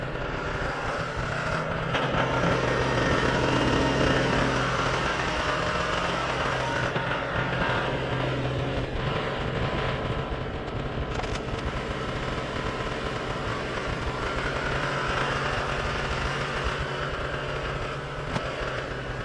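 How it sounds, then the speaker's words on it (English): A snowmobile engine runs steadily and close by as the machine is pulled back onto a soft, dirt-and-snow trail, a continuous loud rumble with shifting revs and no talking. "I'm just gonna pull the snowmobile over here back on the trail"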